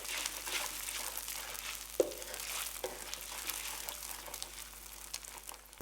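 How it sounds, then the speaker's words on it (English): Eggs frying in chilli paste and oil in a wok, a steady close sizzle with scraping stirs and an occasional sharp clink of the utensil against the pan. "Blend the eggs through the chilli paste and oil until they start to cook through."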